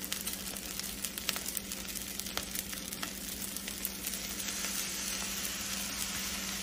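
Bacon and onion toasting in a pan give off a steady, close sizzling hiss with crackling pops scattered throughout, heard alone without talk.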